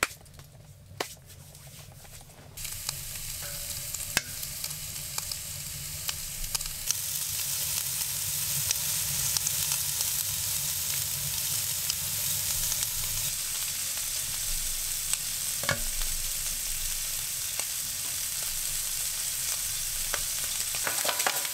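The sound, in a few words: fatty meat frying on a Gstove in a tent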